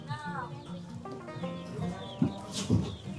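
Chickens cluck softly and close by amid chick peeps, mixed with quiet talking and a few sharp rustling thumps.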